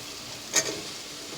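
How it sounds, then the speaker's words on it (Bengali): New potatoes dropped into hot oil in a pan for a winter-vegetable dried-fish curry: one brief splashy burst, then a faint, steady sizzle. "তেল ছেড়ে দিয়েছে, আমি এখন আলুটা দিয়ে দেবো।"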